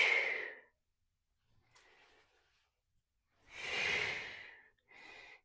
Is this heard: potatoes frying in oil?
no